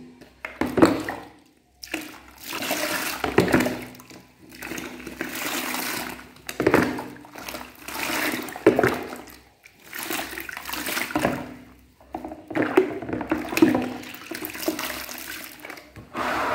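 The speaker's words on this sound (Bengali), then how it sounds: "এবার এটা আমি ধুয়ে নিচ্ছি" Running tap water splashes over hands as body wash is rinsed off, in uneven bursts and surges of hissing flow broken by short pauses, close by and with no talking.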